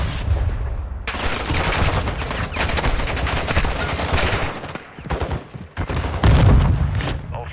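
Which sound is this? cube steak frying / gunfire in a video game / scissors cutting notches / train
gunfire in a video game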